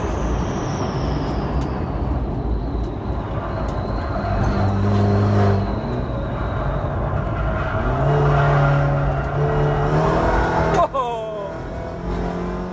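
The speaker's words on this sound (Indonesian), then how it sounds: "Kali ini saya berada di sirkuit Sentul untuk menemui mobil balap ini" A BMW F30 with automatic transmission, built as a touring race car, revs its engine at the Sentul circuit, a loud continuous roar with rising and falling pitch sweeps and a sharp change near the end, with voices faintly underneath.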